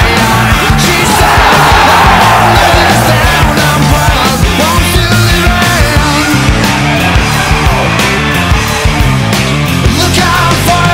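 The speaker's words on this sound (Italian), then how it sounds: "Adesso incominciamo a urlare." A school crowd yells and cheers for its team at a Reyer School Cup tournament stage, a dense, loud and continuous roar of many voices with scattered shouts throughout.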